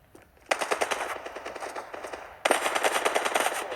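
Two loud bursts of rapid automatic fire from an AKR-12 assault rifle in a video game duel, the first about two seconds long, the second starting after a brief pause, close and sharp.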